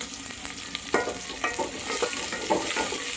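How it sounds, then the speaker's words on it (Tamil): Small onions sauté in hot oil for a wedding-style sambar, a steady close sizzle with irregular scraping and stirring clatter rising in intensity. "வெங்காயம் போட்டுட்டேன்,"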